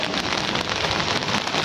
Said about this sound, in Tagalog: kasi tuloy-tuloy po talaga yung ulan niya